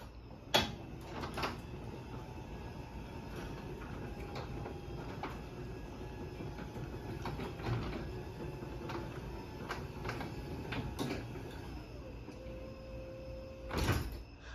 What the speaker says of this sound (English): We'll go ahead and close the 8550 door.